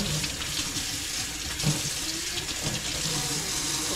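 Water runs steadily from a tap as something is washed under it, a close, continuous splashing stream with no talking.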